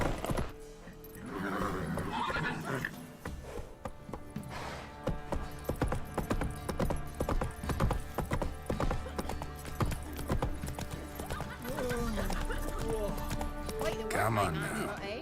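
Roach the horse gallops in The Witcher 3 with a steady, loud clip-clop of hooves and a brief whinny, all under game music and spoken dialogue.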